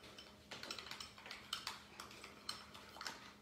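Dressing being stirred with garlic powder and lemon juice, a spoon or utensil clinking and scraping against the bowl in a steady run of light, close taps for a few seconds, with no talk.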